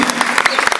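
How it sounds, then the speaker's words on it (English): Audience applause for two performers at an acoustic music set, a dense burst of clapping with sharp individual claps standing out, loud and close, over a brief murmur of crowd voices. "round of applause for Chris"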